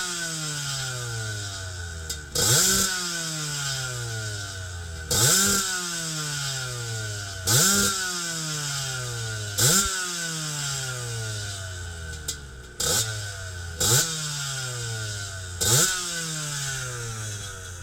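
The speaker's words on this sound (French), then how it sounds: "Avec ce bruit de pot de trial là." A GasGas trial motorcycle engine runs through its trial exhaust, loud and close, with a steady idle broken every two to three seconds by sharp revving blips that rise and fall.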